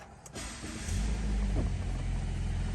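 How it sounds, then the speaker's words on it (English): A 2017 Subaru Impreza Limited with about 99,000 miles cranks and fires up, its engine catching after a brief starter whir and settling into a steady, close idle rumble. "let's go ahead and start this vehicle up for y'all"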